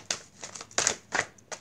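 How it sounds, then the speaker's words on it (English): Tarot cards are shuffled close by in about a second and a half of crisp, papery riffles and flicks, a handful of uneven bursts with no talking. "One last shuffle."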